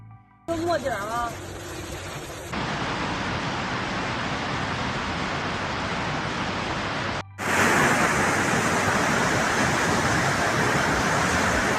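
Floodwater cascades down subway station entrances in Beijing as a loud, steady rushing roar that continues for the whole stretch, broken by a brief cut before surging back even stronger.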